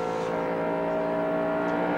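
A NASCAR Winston Cup race car engine roars at Pocono International Raceway, a loud, sustained high-pitched drone at full throttle with no break.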